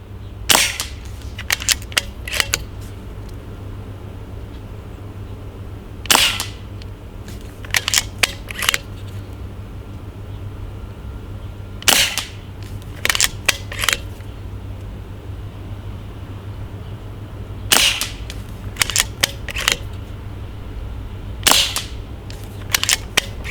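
Sharp, isolated shots from a Snowpeak T-Rex PCP air rifle fired at a 50-metre range, several loud cracks in small clusters separated by pauses, over a steady low hum.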